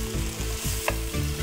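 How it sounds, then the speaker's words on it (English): Spiced paneer with salt, dried methi and tandoori masala sautéing in a pan, a close continuous sizzle with rhythmic stirring scrapes and one sharp tap, no voices. "And we just saute it."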